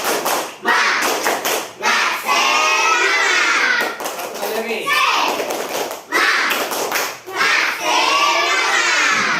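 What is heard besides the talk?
class doing rhythmic spirit clap (tepuk semangat)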